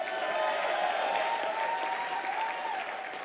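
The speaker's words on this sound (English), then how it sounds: "Give yourselves a round of applause." A convention audience applauds, a thick wash of clapping with a faint sustained tone running beneath it, easing off slightly at the close.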